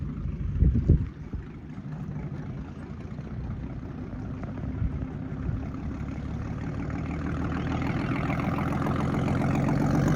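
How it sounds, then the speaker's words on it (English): The stern engine of a 1951 18-foot Penn Yan President motorboat idles with a steady, low growl on a lake that grows slightly louder toward the end, after a brief louder burst near the start. "Listen to that growl. That's the stern engine."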